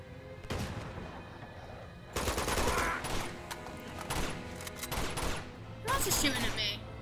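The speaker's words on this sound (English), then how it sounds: "Who else is shooting at me?" Enemy gunfire in Uncharted 2: Among Thieves Remastered, a snowy level: several bursts of rapid shots crackle at moderate distance, separated by quieter stretches, with a player talking in between.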